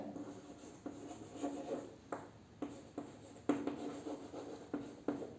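Chalk or marker strokes on a board during a primary-school math lesson on mixed fractions, a quiet series of short scratches and taps in an irregular rhythm, close and alone.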